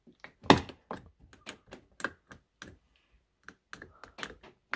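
Plastic interior trim panel on an Audi A4 B8 being pressed into place by hand, a string of sharp clicks and soft thunks at an uneven pace, close and fairly quiet.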